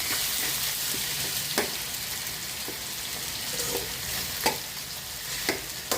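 Thinly sliced potatoes fry in a pan with a steady sizzle as a spoon scrapes through them every second or so, leaving sharp stirring clicks over the hiss. No talk.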